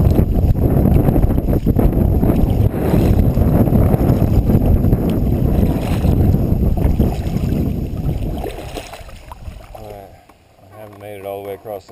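Strong wind buffets the microphone with rushing water and splashing from kayak paddling on a choppy lake in Arkansas; near the end the wind eases and a voice speaks.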